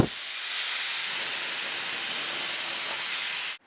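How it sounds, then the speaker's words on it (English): Compressed air rushing through a double-action airbrush as its trigger is held down, a steady loud hiss lasting about three and a half seconds before cutting off abruptly. "When I push down on the trigger, air flows."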